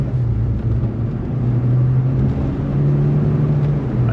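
A Renault 5 GT Turbo hot hatch with 115 horsepower pulls hard in second gear as its turbo comes on, the engine a loud, steady, close drone with a faint rising whine.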